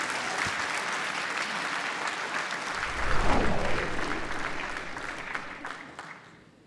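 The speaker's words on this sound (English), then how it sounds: "Let's have a round of applause for Arg and his team." A large audience at the European Athletics Golden Tracks Award gala applauds steadily, a dense wash of clapping that swells briefly midway, then fades toward the end.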